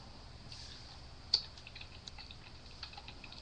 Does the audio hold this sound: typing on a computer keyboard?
yes